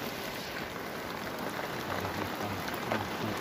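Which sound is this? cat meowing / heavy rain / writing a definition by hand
heavy rain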